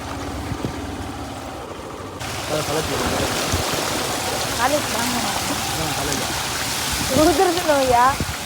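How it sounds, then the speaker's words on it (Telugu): Rain falls on a flooded village road as rainwater streams along it, a dense continuous wash of splashing and flowing water, close and fairly loud, with a voice talking over it. "మా ఊళ్ళో వర్షం పడుతుంది."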